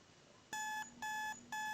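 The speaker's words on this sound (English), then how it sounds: "An alarm clock, and I wake up" An alarm clock in a Brick Hill game video beeps three times in an even rhythm, each tone clean and electronic, with short gaps of near silence between them.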